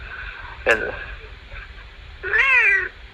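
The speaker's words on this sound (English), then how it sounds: "Did I hear a cat?" Two distinct cat meows, a short one followed by a longer drawn-out call, heard fairly close against a faint background hum.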